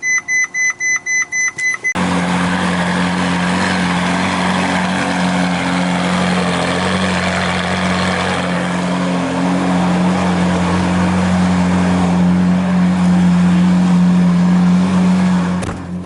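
A motorcycle started with a key and starter button: a few short beeps, then the engine catches and holds a steady, loud idle that rises slightly toward the end, close by with no talking.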